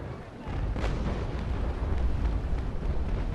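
A ship in the naval combat game Naval Action fires a cannon broadside salute, a rolling, sustained rumble of heavy gunfire booming at a distance and blending into a continuous low roar.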